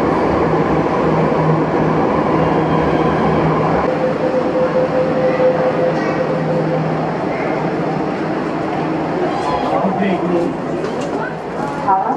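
A Jakarta MRT subway train rumbles steadily for about twelve seconds, a loud continuous roar of rail noise with voices talking over it.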